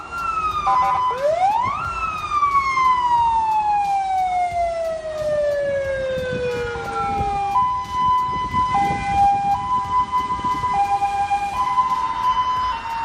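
An ambulance siren wails through traffic in China, sweeping up and down in long glides, then switching to a rapid two-tone alternation, loud and close over road noise.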